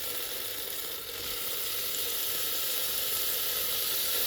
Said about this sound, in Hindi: इसको हम अच्छे से भूनेंगे।